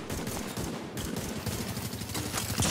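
Rapid video game gunfire, a dense, continuous clatter of shots at steady loudness for under three seconds with no talking.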